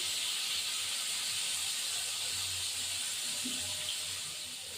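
Rui fish frying in a pan with a steady, even hiss of hot oil, soft and continuous with no breaks, fading slightly toward the end.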